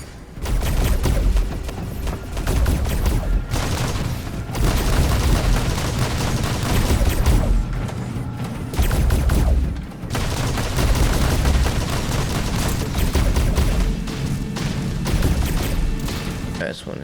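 Shotguns firing in the robot combat game War Robots: dense, loud, booming blasts arrive in repeated volleys a second or two apart over a constant wash of battle noise.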